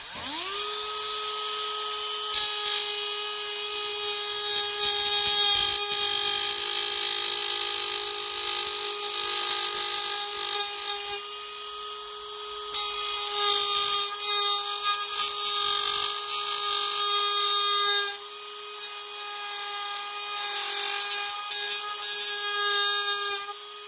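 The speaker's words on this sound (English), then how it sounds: "I'll show you when I change the sanding drum over for this tool" A high, steady whine of a small rotary tool with a sanding drum running continuously while shaping a homemade contrabass flute, its pitch holding level with slight grinding variations.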